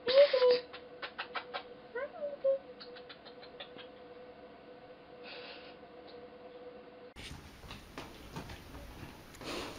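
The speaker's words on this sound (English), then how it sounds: "she's meowing" A few faint, high meows from a cat amid soft patter and ticking noises, followed by rustling handling sounds nearby.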